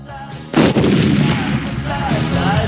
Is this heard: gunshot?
yes